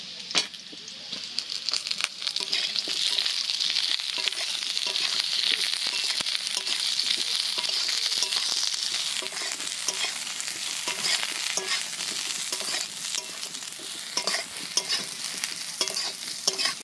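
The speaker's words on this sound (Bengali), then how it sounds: "আলুটা প্রায় ভাজা ভাজা হয়ে গেছে, এবার বেগুনগুলো দিয়ে আরেকটু ভেজে নেব।" Potato and eggplant pieces fry in oil in a pan for a Bengali rohu fish curry, a constant loud sizzle with steady scraping and stirring from a spatula, nearby and unbroken by speech.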